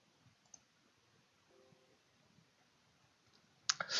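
A computer mouse button clicks in an otherwise quiet room: a faint tap early on, then a sharper, louder click near the end.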